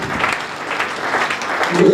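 Church congregation applauding during a service, a steady wash of clapping hands filling the room at moderate loudness, with a voice rising briefly near the end.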